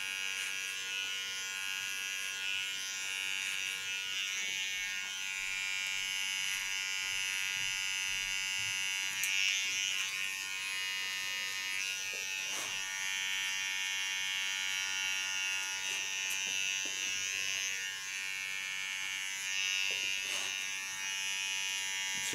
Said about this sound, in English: You can hear this is a different small clipper. This has a little bit wider teeth,